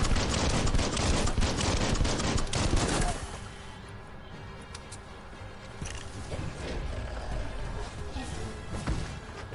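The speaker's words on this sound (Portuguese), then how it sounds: "tem um cara atirando" Enemy gunfire in the video game Biomutant, a dense burst of shots for the first few seconds, then quieter scattered game sounds.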